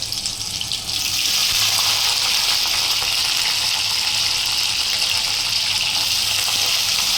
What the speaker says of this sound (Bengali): তেল ছিটছে, তাও আটকানো যাচ্ছে না, অপ্রতিরোধ। মটরশুঁটি ছিটকাচ্ছে